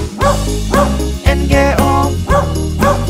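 Dog barks in a children's song, sounding as repeated close, loud woofs in a steady rhythm over a bouncy musical accompaniment.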